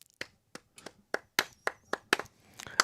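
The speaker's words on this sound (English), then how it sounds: "Golf clap Legend." A soft, sparse golf clap, about ten light hand claps spaced unevenly over a few seconds, close and quiet against silence.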